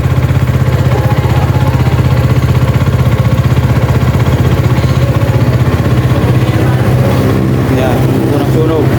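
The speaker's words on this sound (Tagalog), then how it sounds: "Unang sunog ng makina." A 2024 Rusi Sigma 250 motorcycle engine idles right after its first start, a loud, close, steady rhythmic chug with voices talking over it.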